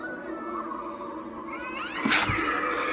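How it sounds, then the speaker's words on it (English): A Halloween animatronic cat at a Spirit Halloween store in Ohio lets out a loud yowling meow and caterwaul about two-thirds of the way through, rising over a steady background hum of store noise. "Love that cat sound."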